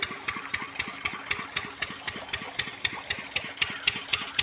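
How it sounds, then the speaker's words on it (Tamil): A small irrigation water pump engine runs steadily nearby on an okra farm, a rapid regular thumping chug with a rattling mechanical edge, continuing without pause. "அங்கே வந்து மிஷின் ஓடுறது, இங்கே வந்து தண்ணி குதிக்குது."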